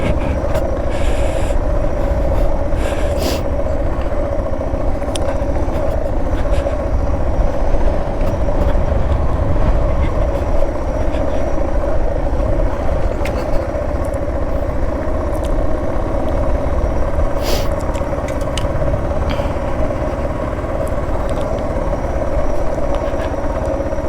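A Suzuki DR650SE motorcycle rides down a gravel forest trail, its engine droning loud and steady throughout under heavy wind rumble, with occasional crunches and rattles, close to the rider and without talking.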